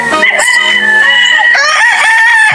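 Kelso gamefowl rooster at a game farm in Batangas crowing loudly and close, one long strained cock-a-doodle-doo call with clucking around it.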